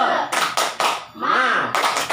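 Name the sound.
group doing a rhythmic spirit clap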